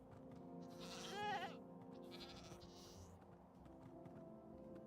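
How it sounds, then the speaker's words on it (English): Goats bleating in a base-building video game, one wavering bleat standing out near the middle over a steady low game hum, with a second fainter burst of calls shortly after. "There's a lot of goats in here"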